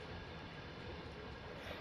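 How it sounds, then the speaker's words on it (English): Coal train of about 30 cars rolling past in the Train Sim World 2 video game, a steady low rumble and clatter of rail wagons at a distance, fairly faint and continuous throughout, with no talking. "Look at this coal train."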